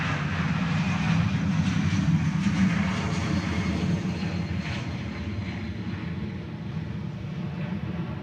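A jet airliner passes at Honolulu airport with a steady, broad engine roar that swells and then slowly eases, with no talking.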